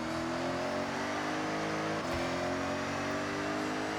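A Ferrari F80 in the Forza Horizon 6 racing game drives at sustained high revs, its engine a loud, dense, steady howl with a brief gear-shift dip midway, alone without talk.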